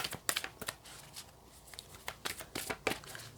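A thick, heavy tarot deck is shuffled by hand, producing close, irregular bursts of riffling and card slaps with short pauses between them.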